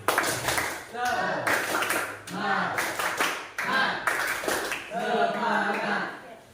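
Classroom students clap a rhythmic Indonesian tepuk baris chant clap, bursts of clapping in patterned groups alternating with voices chanting along.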